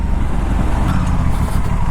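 An Aprilia RS 457 motorcycle engine rumbles steadily up close, a deep continuous drone with no breaks or voices.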